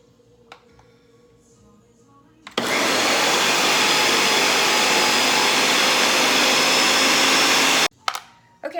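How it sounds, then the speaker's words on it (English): A kitchen blender whirs loudly as it purees cauliflower for mash. Quiet handling noises come first, then the motor starts abruptly and roars steadily for about five seconds before cutting off, followed by brief clatter. "Okay, so I blended that."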